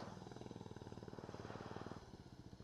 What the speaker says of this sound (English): Oh, I hear a bike.